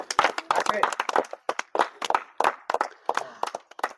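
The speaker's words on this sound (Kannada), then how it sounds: "ತಾವೆಲ್ಲರೂ ಜೋರಾದ ಚಪ್ಪಾಳಿ ಹಾಕ್ಬೇಕು" Audience clapping at a village fair wrestling bout, bursts of hand claps arriving in uneven clusters with short gaps, fairly close and mixed with crowd voices and a person talking.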